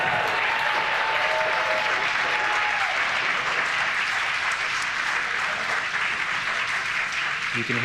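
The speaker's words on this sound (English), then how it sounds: "You can hear the cheer and the applause" Crowd cheering and applauding steadily as a SpaceX Falcon 9 first-stage booster touches down on its ninth landing, a dense, continuous roar of clapping and shouts throughout, with faint voices briefly audible under it early on.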